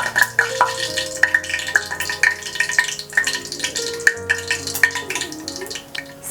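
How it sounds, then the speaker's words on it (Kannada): Mustard seeds crackle and pop in hot oil in a pan (the start of a lemon rice tempering), with a steady close sizzle punctuated by sharp, irregular pops. No one speaks. "ಎಣ್ಣೆ ಕಾದಿದೆ, ಸಾಸಿವೆ ಹಾಕ್ಕೊಂಡಿದ್ದೀನಿ."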